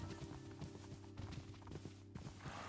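Horses in Minecraft: steady hoof clip-clops over a continuous background of game noise, with a low tonal hum under the hoofbeats and no talking.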